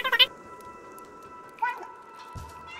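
A cat meows in the video game Stray when the F2 key is pressed, one short rising call in the middle, heard over steady game ambience after a brief burst of noise at the start.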